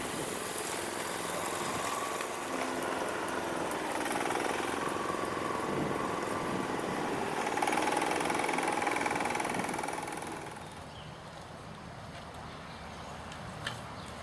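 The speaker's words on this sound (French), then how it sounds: "Regarde, ils font le tour en tondeuse à gazon." A lawn mower engine drones steadily at mid distance for about ten seconds, then drops away to a quieter background hum.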